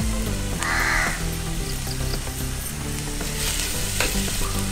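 Onions fry in a pan for Kerala-style dry roasted chicken, a dense, steady sizzle with occasional stirring scrapes, while a crow caws nearby outdoors over the cooking noise.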